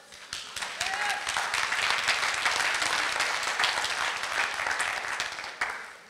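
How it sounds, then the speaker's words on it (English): Special education teachers at a union gathering on Hawaii teacher pay break into sustained, dense applause that holds steady for several seconds before trailing off, with a faint whistle early on. "And that's the special education teachers applauding."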